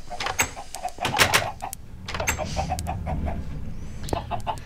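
Video game chickens cluck and chirp in short, repeated bursts, fairly close and moderately loud, with no talk over them.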